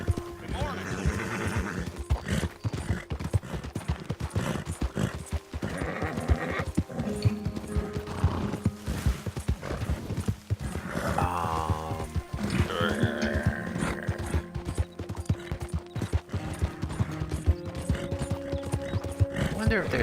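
Horse hooves clip-clopping in steady rhythm with occasional neighs and whinnies in the Red Dead Redemption video game, close and continuous under someone talking.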